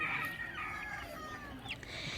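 Chickens cluck and crow at a busy village market, their sharp, repeated calls close and loud over a steady bed of crowd murmur and background bustle.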